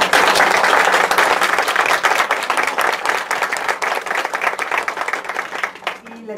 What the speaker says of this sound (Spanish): Les pido por favor un aplauso